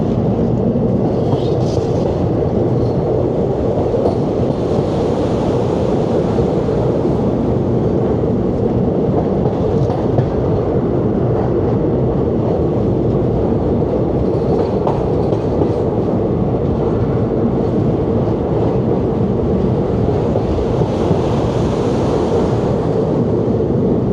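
The 13142 Teesta Torsa Express rolls from New Jalpaiguri toward Kolkata at night, a loud continuous rumble with rattling carriages and faint clickety-clack throughout, heard from on board with no voices.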